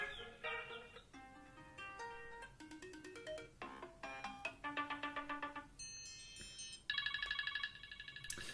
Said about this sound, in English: you do have new sounds here for the ringtones and the alert tones